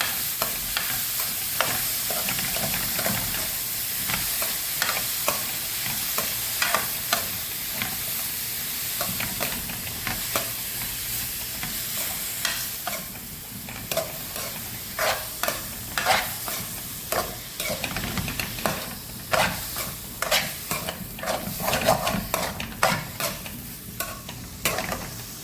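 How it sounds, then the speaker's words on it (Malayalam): A mushroom masala curry with cumin powder sizzles in a pan while a spoon scrapes and stirs it in repeated, irregular strokes, the frying hiss steady underneath, close and fairly loud. "കൂനിട്ട് ഇങ്ങോട്ടൊന്ന് ഇളക്കാം"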